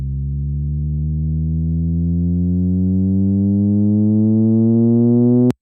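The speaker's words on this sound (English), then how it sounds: "this is just going to be a really basic sort of sub riser to sort of create some rising movement" A steady synthesized sub tone with rich harmonics slowly rising in pitch and brightness as a filter opens, growing louder, then cutting off abruptly.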